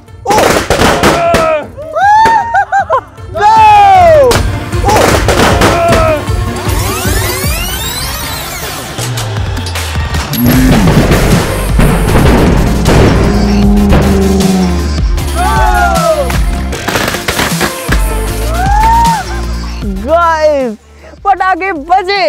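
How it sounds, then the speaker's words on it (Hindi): Diwaar bomb firecrackers burst inside a well, a rapid, loud barrage of sharp cracks and echoing booms with whistling streaks, nearly continuous throughout, while people shout and talk between blasts. "पटाखे बजे, पटाखे बजे अंदर जाके।"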